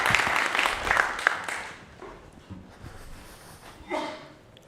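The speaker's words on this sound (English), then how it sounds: "Can we give a round of applause for David?" Applause from a conference audience welcoming a speaker to the stage at a DevSecOps talk, dense clapping for about two seconds that thins and fades, with a brief voice near the end.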